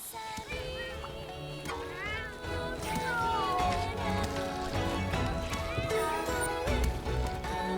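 In Monster Hunter Rise, cat characters give repeated high meows over cheerful in-game music and rhythmic pounding as dango is made.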